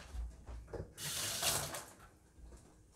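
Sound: water filling a pot to cover corned beef brisket

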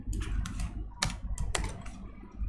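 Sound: typing code on a computer keyboard

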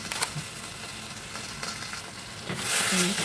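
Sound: meat being sautéed and stirred for sinigang

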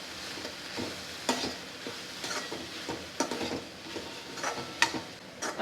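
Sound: stirring chaat masala and garam masala in a sizzling pan

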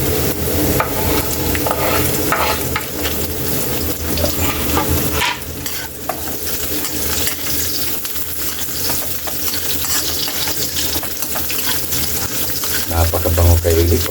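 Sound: ginger and garlic sautéing in a pan

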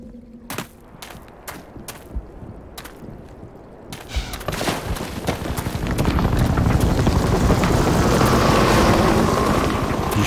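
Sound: helicopter and gunfire in the video game Black Mesa

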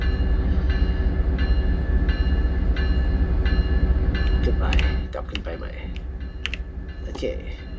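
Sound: train arriving at station in Train Sim World 2020 video game

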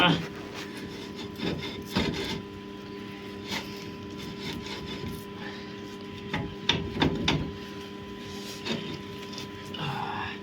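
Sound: rear wheel bearing being worked back and forth, Renault Modus

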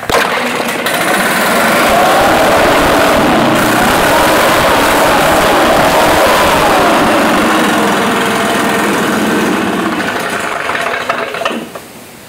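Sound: Stihl BR550 two-stroke backpack blower starting and running

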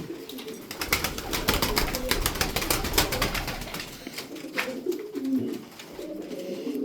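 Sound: pigeons cooing

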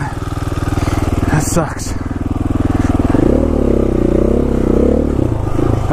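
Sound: dual sport motorcycle engine riding through soft mud

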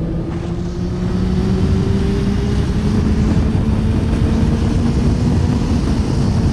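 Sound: motorcycle engine accelerating through gears

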